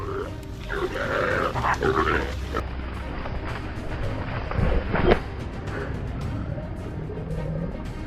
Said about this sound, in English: the relentless barking of the hunting dogs